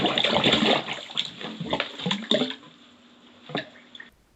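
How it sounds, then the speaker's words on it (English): Water surges and splashes through a drain as toilets are flushed upstairs: a loud rushing gush for a few seconds, then it fades to trickling with a last splash before it stops. "I've got the staff upstairs flushing lots of toilets again"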